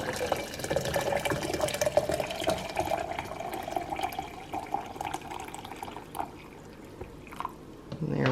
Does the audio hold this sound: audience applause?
no